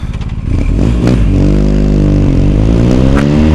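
A BMW R1250GS motorcycle with a BT Moto tune runs close and loud, its engine note holding steady and then rising into a rev that hangs at a strong, throaty pitch.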